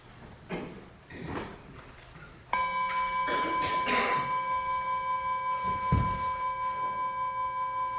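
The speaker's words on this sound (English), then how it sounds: "allow the bell to bring you into the space of the body" A meditation bell in a Buddhist shamatha session is struck once after some soft handling noises. It rings out as a clear, sustained tone that hangs and slowly fades over several seconds.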